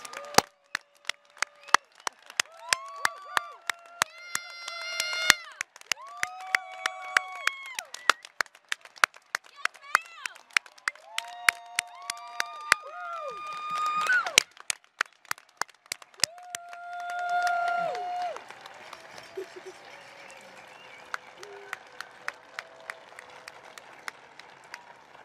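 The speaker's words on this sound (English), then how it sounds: "Please join me in another round of applause for our graduates." Scattered applause for graduates at a 2021 School of Education commencement ceremony, sharp individual claps under a speaking voice, then swelling into a fuller burst of crowd clapping near the end.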